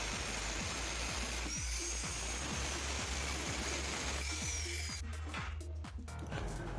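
Power tool cutting steel pieces for a home steel door frame, a steady loud grinding whine running throughout with a slight drop in tone near the end.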